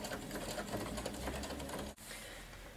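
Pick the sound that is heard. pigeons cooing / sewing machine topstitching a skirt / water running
sewing machine topstitching a skirt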